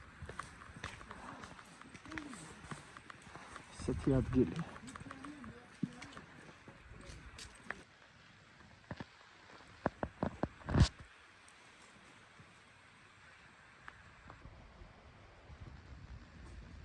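Horse hooves clip-clop in a farmyard also holding oxen, a few sharp knocks in short clusters against a quiet outdoor background with light wind, while someone speaks briefly.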